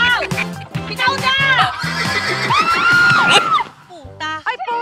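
A running horse lets out a long, high whinny that rises and falls, with hoof noise and people shouting and talking over it.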